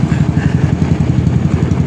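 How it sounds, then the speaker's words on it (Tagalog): A motorcycle engine runs steadily at close range on a riverside esplanade beneath a bridge, a continuous low throbbing hum with no voices over it. "Ganda ng motor niya no."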